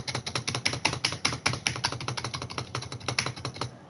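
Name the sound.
keyboard keys being pressed, spacebar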